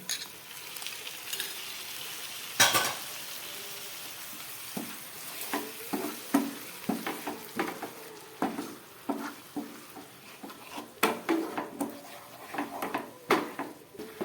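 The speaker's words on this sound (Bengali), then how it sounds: "খুব ভালো করে এবার মশলাটাকে আমি কষাবো।" Spice paste with tomato sizzles in a pan under a soft frying hiss, with irregular scraping strokes of a spoon stirring it, close up and without speech.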